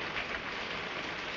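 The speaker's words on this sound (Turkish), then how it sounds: "Şu yağmura bakar mısın?" Steady rain falls in an even, dense wash of hiss with no breaks and no voices.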